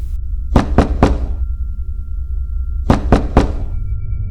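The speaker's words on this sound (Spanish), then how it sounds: "un pobre jacal se estremeció al ser sacudida la gruesa puerta de mezquite por alguien que llamaba aporreando con desesperación las duras maderas" Someone pounds desperately on a thick mesquite wooden door of a humble hut: two loud, close bursts of three heavy thuds each, separated by a pause over a low rumbling background.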